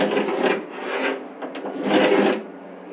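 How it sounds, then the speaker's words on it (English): Wooden furniture panel being trimmed by hand for a fit inside a catamaran under construction, a close, loud rasping scrape in several long back-and-forth strokes with short pauses. "I need to trim down here for that to fit, which is easy enough to do."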